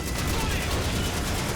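Machine gun fire from a Panzer II tank in the World War II shooter Call of Duty 2, a dense continuous burst of rapid rattling shots filling the whole moment, loud and close.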